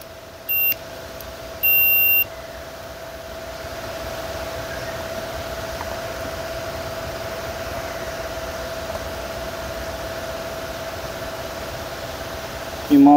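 Two short electronic beeps from a multimeter sound close by over a steady hum, the second slightly longer, followed by a long stretch of faint background noise.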